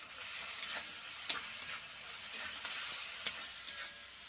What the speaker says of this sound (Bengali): প্রথমে এগুলো একটু লাল লাল করে ভেজে নেব